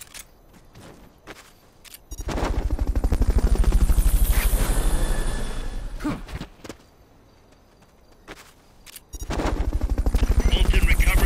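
A helicopter's rotor thumps in rapid, loud pulsing beats during a Fulton recovery in the video game Metal Gear Solid: Peace Walker, swelling, fading away, then returning strongly.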